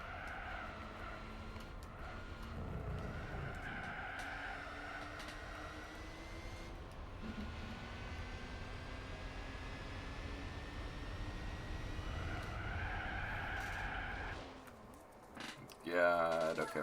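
A Mazda RX-8 driving in Gran Turismo 4: a steady engine drone with rising and falling pitch as it accelerates through gears. Someone talks over it throughout, and a brief clattering burst comes near the end.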